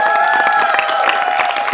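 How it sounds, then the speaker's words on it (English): Brief burst of clapping and cheering from a council assembly for the outgoing secretaries and board, loud and close, over a steady tonal hum. "small round of applause for the previous secretaries and the board"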